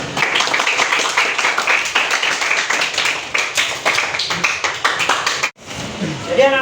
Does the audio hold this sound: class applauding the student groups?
yes